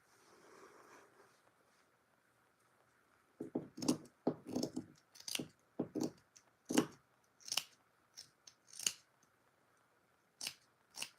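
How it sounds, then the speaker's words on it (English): Fabric pieces for a sewing project being cut with scissors, a quick run of crisp snips in irregular bursts after a quiet start, close and clear with no talking. "Let's get this stuff cut out first."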